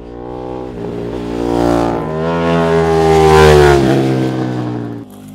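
A 2024 KTM 1390 Super Duke Evo naked motorcycle revving on the Almería race circuit, its engine note climbing and swelling loudly over several seconds before dropping off abruptly.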